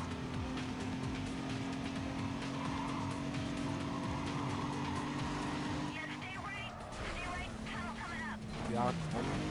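Car engine roaring with squealing, skidding tires during a street race in Need for Speed Carbon, loud and continuous throughout.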